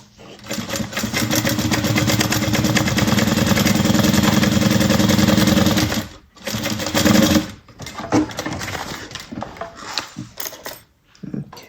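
A sewing machine top stitches a bag lining in one loud continuous run of rapid mechanical whirring for several seconds, then stops and restarts in a few shorter, choppier bursts.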